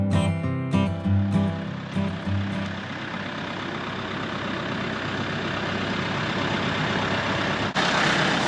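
A heavy diesel tractor engine rumbles steadily at idle nearby, a low continuous drone with a few louder bursts at the start.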